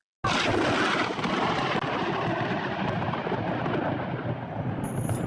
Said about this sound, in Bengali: আকাশে মেঘ ডাকা শুরু